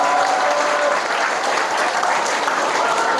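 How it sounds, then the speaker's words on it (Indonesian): A packed hall at a public speaking seminar in a vocational school breaks into loud, continuous applause, close and even throughout, with no voices over it. "berikan tepuk tangan untuk kita semuanya"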